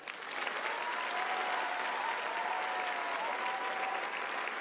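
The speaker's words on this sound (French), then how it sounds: "On applaudit Johan." Sustained audience applause fills a concert hall at a French poetry-slam grand final at the Olympia, steady and dense throughout, with a faint tonal whistle or hum running beneath the clapping.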